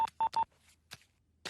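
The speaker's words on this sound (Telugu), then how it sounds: "వాళ్ళకి ఫోన్ చెయ్యి." Telephone keypad dialing tones: three quick beeps in a row, then two more spaced apart, clear and close with near silence between them.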